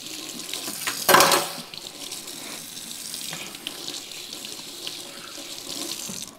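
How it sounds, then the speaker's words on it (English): Hands are washed under a running kitchen tap, with a steady rush of water and a louder splashing burst near the start, close by and without talk. "Wash my hands again."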